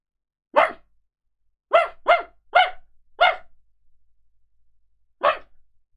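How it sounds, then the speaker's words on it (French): A dog named Théma barks six times nearby, loud sharp single barks, several in quick succession and one after a pause, over a silent background. "Théma, le chien qui me regarde derrière."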